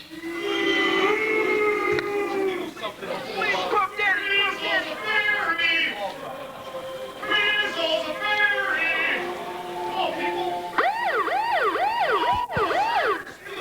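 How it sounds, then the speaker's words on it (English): Wailing sirens rise and fall loudly in repeated sweeps at a wrestling event entrance, mixed with shouting voices and crowd noise, ending in fast yelping siren cycles. "when you hear those sirens"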